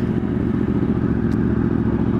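A motorcycle engine runs steadily and loudly up close, a dense continuous drone with slight revving fluctuations just before a wheelie.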